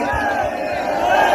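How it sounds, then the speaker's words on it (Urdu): A large crowd chants the Labbaik slogan in unison at a political gathering, loud massed voices rising together with a roaring crowd texture. "اب لبیک کا نعرہ لگانا ہے"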